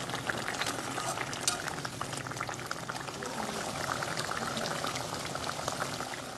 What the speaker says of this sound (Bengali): এবার আমি 10 মিনিট গ্রেভির সাথে মাছটা ফোটাবো।